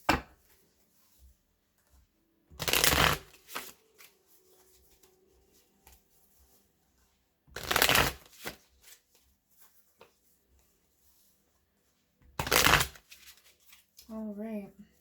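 Tarot cards from a Witch's Tarot deck shuffled in three loud bursts, each about a second long and spaced several seconds apart, with a quiet room between them and a brief voice at the very end.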